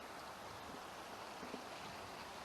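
Cheyenne Creek flowing beside a park duck pond with picnic tables and small bridges, heard as a steady, fairly faint broadband rush of moving water throughout, with no voices over it.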